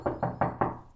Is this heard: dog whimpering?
no